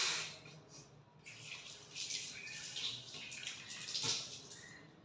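Tap water running during ablution, washing the face: a soft, steady splashing stream with a few louder gushes, quiet and close, with no talking.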